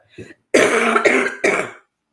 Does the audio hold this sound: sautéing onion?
no